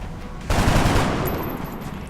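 Gunfire in XCOM: Enemy Within: a sudden loud burst of rattling automatic fire with heavy low rumble, sustained for over a second and a half, close and alone.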